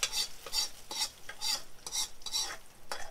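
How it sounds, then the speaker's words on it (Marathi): Hot tempering for Gujarati dal dhokli crackles and sizzles in quiet, rhythmic bursts, each spaced about half a second apart like stirring strokes, with no talking. "ही मी डाळीला आता तडका दिला आहे."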